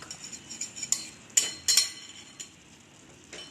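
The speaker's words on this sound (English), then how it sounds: "scratch it up all the masalas and mix it well with our spinach leaves or our palak" A spoon scrapes and clinks against a cooking pot while spinach (palak) and masalas are stirred and mixed for a Bengali-style gobi palak, with a few sharp metallic scrapes over a quiet sizzling background.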